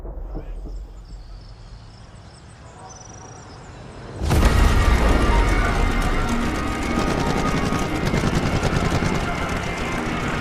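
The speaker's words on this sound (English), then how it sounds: "The plane has taken off, and it's on." Granville GPR Super Sportster racing plane in The Crew Motorfest, its engine bursting from quiet into a loud, steady roar for takeoff and holding a dense, sustained drone with no talk.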